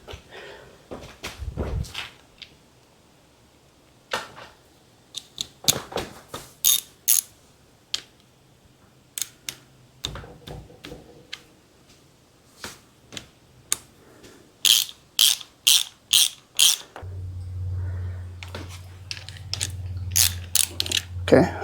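Socket ratchet wrench working loose an engine belt tensioner on a GM 3800 V6, with repeated bursts of close, crisp ratcheting clicks separated by pauses, and a low hum entering near the end.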